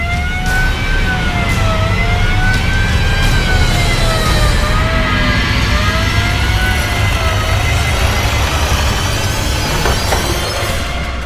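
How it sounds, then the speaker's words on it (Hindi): A wailing siren rises and falls continuously, loud and fairly close, over a constant rumble of traffic or engine noise. "सायरन सुनाई दे रहा रे"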